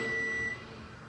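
A microwave oven in an old hotel room signals that a cup of noodles is finished with a steady electronic beep tone over quiet room noise. The tone holds for about half a second, then stops.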